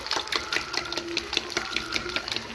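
Eggs being beaten and mixed for an egg fry make rapid, rhythmic whisking clicks, close and steady for a few seconds with no talking.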